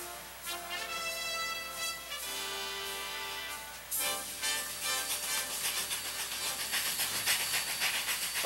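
A Mikado steam locomotive hauling a train through hill country hisses and chuffs with loud, sustained steam noise, a whistle-like tonal blast sounding early before rhythmic exhaust beats take over.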